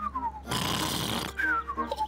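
A voice imitating loud snoring in a Spanish-language Peppa Pig cartoon: one long, harsh rasping snore between whistly tonal sounds, close and fairly loud, with no spoken words.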